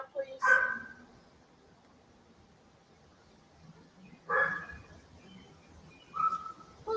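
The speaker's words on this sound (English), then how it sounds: "Who's got a dog?" A dog barks outdoors near a porch in three separate short bursts spaced a couple of seconds apart, moderately faint and distant, with quiet background between barks.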